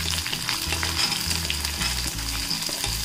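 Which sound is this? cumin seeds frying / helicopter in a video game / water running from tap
cumin seeds frying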